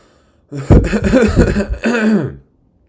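A person clears their throat in a series of loud, rough, gravelly rasps lasting about two seconds, close to the mic with no speech.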